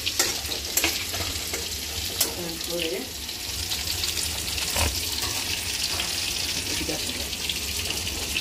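Chopped tomatoes frying in a pan, giving a continuous hissing sizzle with occasional stirring knocks and a few brief faint sounds in the background.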